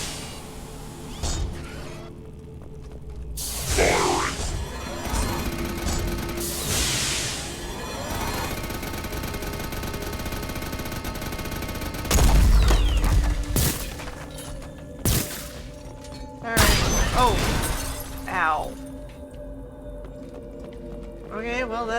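Bursts of gunfire in Mass Effect 2 come in several clusters over a mix of game music and effects, sometimes loud and sometimes thinner, with a voice talking at times.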